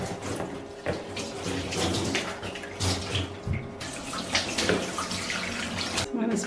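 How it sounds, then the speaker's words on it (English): Hot water runs from a tap while rinsing a surface, a continuous splashing gush with shifting intensity and occasional knocks, close and fairly loud throughout. "I think I'll just rinse it down with some water, hot water."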